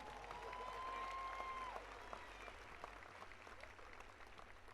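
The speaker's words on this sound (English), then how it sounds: "can we give another round of applause for Mr." Commencement crowd at Fayetteville State University applauding, a broad wash of clapping that swells early and then slowly thins, with a brief tone and some murmuring beneath.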